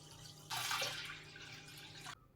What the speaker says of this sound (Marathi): दोन्हीमध्ये पुरेसं पाणी ओतून घेऊया.